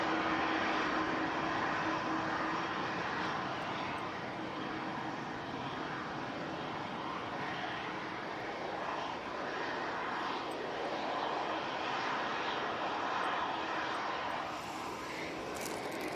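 An EasyJet Airbus A320-200 jet departs with a continuous broad engine roar that holds steady at moderate distance throughout, with no voices.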